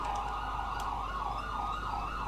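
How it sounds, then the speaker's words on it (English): Wailing emergency vehicle sirens in the video game GTA V, a steady rising-and-falling tone that carries loudly and continuously through the whole stretch with no talk over it. "What the fuck's going on with all these fucking sirens?"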